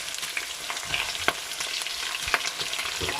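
Onions and grilled beef frying in a pan for a spinach and beef sauce, a loud steady sizzle close up with occasional stirring scrapes and pops, no voices.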